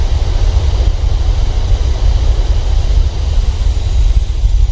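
Simulated Boeing 737-800 BBJ2 thrust reversers roar during the landing rollout. The deep, steady, broadband rumble stays loud and unbroken throughout, with no talking.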